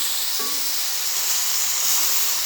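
Steak sizzling in a hot cast iron pan, a loud, constant hiss with a brief clink near the start.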